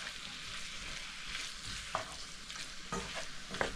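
Samosa vegetable filling sautés in an oiled pan, a close, soft sizzle with scraping stirs and a few sharper utensil clicks against the pan.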